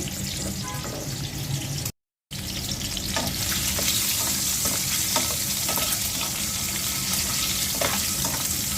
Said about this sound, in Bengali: আরেক পাশে ডিমটা ভেজে নিচ্ছি